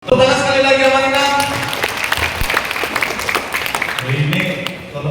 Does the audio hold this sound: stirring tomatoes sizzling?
no